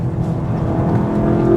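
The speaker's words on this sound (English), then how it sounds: "Hearing the engine noise, feeling the grunt, feeling the torque" A VW Golf GTI hot hatch engine pulls hard under acceleration, a loud, steady, throaty drone heard from inside the car without talk.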